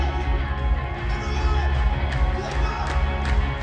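A concert crowd cheers and shouts continuously in the build-up to the final chorus of a song, a loud, dense roar of voices with whoops rising over it throughout.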